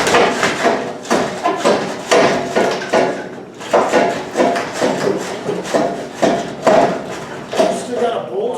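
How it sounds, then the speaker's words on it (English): A rear bumper comes off a 1974 Oldsmobile Cutlass with repeated knocks, scraping and metallic rubbing in uneven bursts, while two people talk over the work. "now this is a two-man job getting this bumper off"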